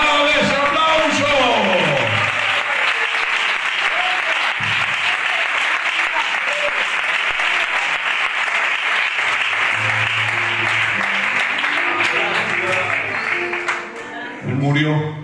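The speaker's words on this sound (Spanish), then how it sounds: "¡Dale ese aplauso!" A church congregation applauds during a sermon, broad sustained clapping with scattered whoops and cheers, while the preacher's voice is heard under it at the start and again near the end.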